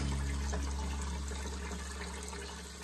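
Tap water runs steadily and loudly into a bowl of hog maws, making a full, continuous splashing rush that fades slightly near the end, with no voices.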